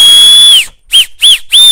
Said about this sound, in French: quand je siffle le plus fort que je peux, ça me fait mal aux oreilles